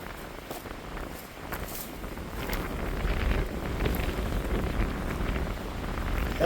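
Cold-weather wind gusts around a truck campsite with steady broadband rushing and buffeting against the microphone, swelling louder midway and holding strong to the end, no talking.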